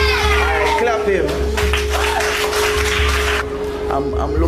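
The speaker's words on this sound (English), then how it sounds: "Alright, clap him." Scattered clapping and crowd noise at a school careers day in Jamaica rise over a steady low hum, with voices talking through it, fairly close and lively.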